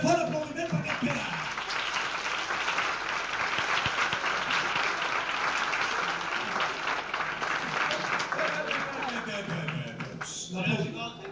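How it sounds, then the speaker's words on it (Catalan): An audience at a 1982 Catalan stage show by Grup Garigots breaks into a long, loud round of applause that fills the whole stretch, with voices breaking through near the end. "Un ben fort aplaudiment per aquest Pere."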